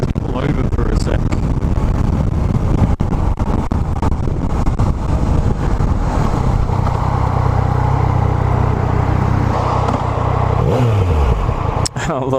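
A semi-faired motorcycle on its standard exhaust rumbles steadily while riding, close and loud, with wind buffeting the microphone, and near the end the engine note drops away.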